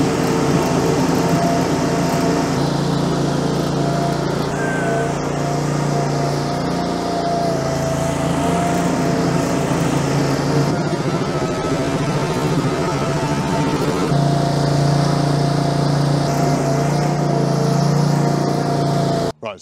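A Westermann CM2 compact farm machine fitted with a cubicle brush and silage auger runs steadily nearby, its small engine droning with a constant hum and whine for the whole stretch before cutting off abruptly at the end.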